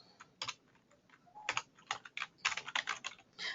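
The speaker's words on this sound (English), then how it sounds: "I'm typing and you all are typing." Rapid keystrokes on a computer keyboard patter in quick irregular bursts, close and fairly quiet, with no voices.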